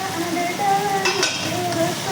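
Prawn roast masala with tomatoes and chillies sizzles in a pan on the stove as a spoon stirs it, a steady close frying hiss broken by a few light scraping strokes and soft clinks.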